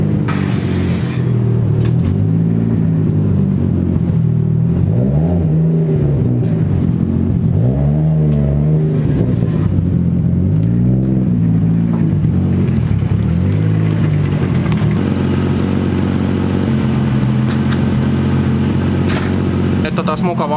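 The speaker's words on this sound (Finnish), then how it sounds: "Taas mukava ajella, kun on puhas auto." A freshly washed car drives along, its engine droning steadily and rising and falling in pitch through gear changes and acceleration, loud and close from inside, with someone talking over it at times.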